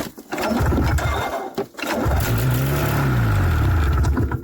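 A 1994 Yamaha VX500 VMAX 500 motorcycle engine cranks and sputters on starting fluid, briefly cuts out, then catches and runs steadily with a loud, rough idle that rises and falls in pitch.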